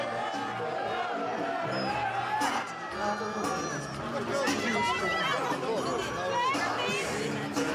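A crowd of onlookers and photographers chattering and calling out along the red carpet at the Cannes Film Festival, a dense, continuous babble of many voices with occasional whoops close by.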